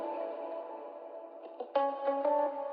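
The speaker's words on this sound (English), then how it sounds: "So I added the reverb, so it sounds really inside" A guitar drenched in heavy reverb and echo in an Afro Swing beat, washed-out sustained notes with a few brighter plucked chords near the end, distant-sounding and soft.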